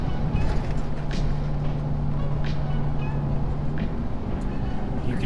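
A diesel pickup engine holding near 3,000 RPM under exhaust braking on a mountain descent, a steady low drone with a sustained hum that fades near the end as the revs shift, loud and continuous, with faint voices.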